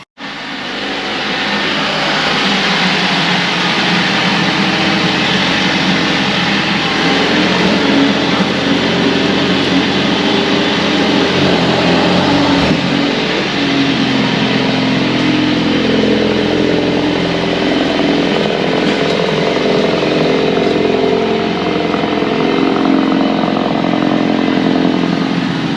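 A Mercedes-AMG A45 S with a full Milltek GPF-back exhaust idles steadily after a cold start, a loud, close, continuous drone with a slightly rough burble and one brief blip midway, no voices.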